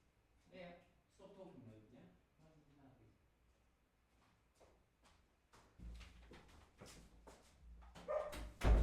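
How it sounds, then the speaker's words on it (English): A dog barks in a neighbouring home, a few sharp bursts after someone talks, distant but distinct and mixed with household clatter. "And there goes the dog."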